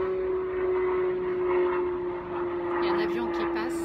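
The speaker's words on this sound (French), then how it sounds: "Il y a un avion qui passe." An airplane passes overhead as a steady, continuous drone with a sustained engine tone, moderately loud and unchanging throughout, under a woman's speech.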